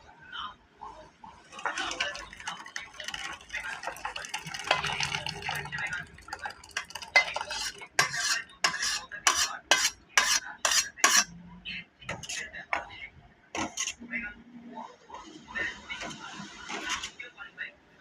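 Cooked masoor dal with onion is scooped from the pan into a bowl, with a spoon clinking and scraping against metal in repeated, uneven strokes while a voice speaks.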